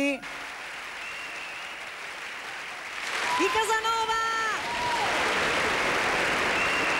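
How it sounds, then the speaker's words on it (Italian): An audience at a live music show breaks into applause that swells and then holds steady. A voice calls out over the start, and a brief whistle or cheer rises through the middle. "Lo facciamo un altro bel applauso, ragazzi"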